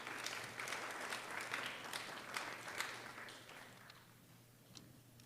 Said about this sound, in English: So give a big round of applause to Raghava and Lakshmi